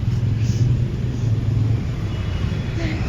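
A car idles while being refuelled with CNG at a filling station, giving a steady low rumble throughout with broadband background noise and no clear voices.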